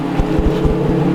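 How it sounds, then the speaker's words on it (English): An Audi car engine idles after a fuel pump upgrade for E85. It gives a loud, steady, close low rumble with a faint rhythmic pulse and no talking. "I'm just gonna let the car idle for a little bit."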